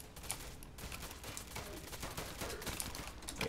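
Rapid bursts of HK416 rifle fire in a Chicago Remastered video game, dense and continuous crackling shots over about three and a half seconds, loud and close with no talking.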